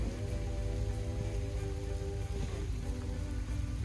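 Heavy rain pours down steadily during a storm on a hunting trip, a dense continuous hiss filling the whole stretch with no voices.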